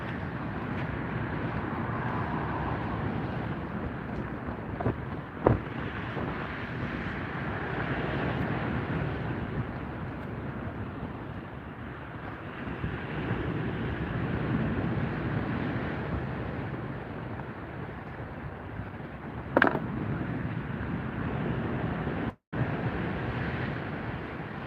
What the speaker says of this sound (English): Yeah, a bit windy innit?